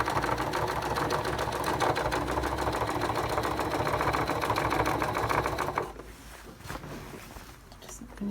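A sewing machine stitches a jean jacket in a fast, even run of needle clatter for about six seconds, then stops, leaving quiet room sound with faint handling noises.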